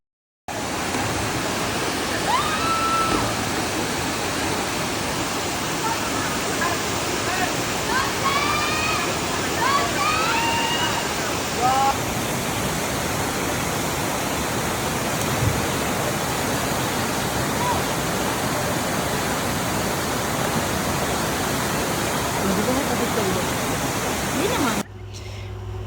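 Cambugahay Falls in Siquijor pours with a dense, unbroken roar of rushing water that stays loud throughout, with faint voices briefly audible beneath it.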